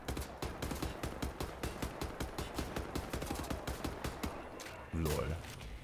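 Rapid bursts of gunfire in the video game Wolfenstein: The New Order crackle in a steady rhythm, followed by a heavier blast near the end, with some talking mixed in.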